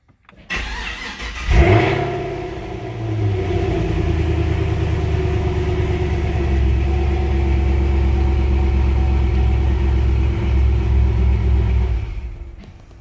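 A supercharged LSA V8 in a Chevy SS cranks over, fires up at about one and a half seconds and settles into a loud, steady, lumpy idle that runs nearly to the end.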